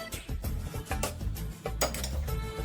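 Boiled tea is strained in a home kitchen, with metal strainer, pot and cup clinking and scraping in quick irregular knocks, fairly close and with no talking.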